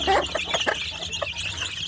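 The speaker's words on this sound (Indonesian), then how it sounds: "saya memberi makan anak ayam kampung saya sedulur yang ada di kotak pembesaran" Free-range village chicks in a rearing box chirp and cluck busily while being fed in the morning, a close, overlapping chorus of short peeps with no one talking.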